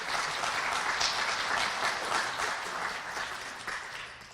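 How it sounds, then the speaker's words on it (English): Audience applause at a chamber of commerce health and wellness luncheon, a dense continuous wash of many hands clapping, fairly loud and even, tapering slightly toward the end with little talk. "Can you guys give them one more round of applause?"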